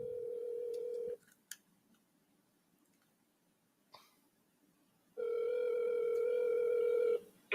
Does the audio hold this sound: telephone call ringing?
yes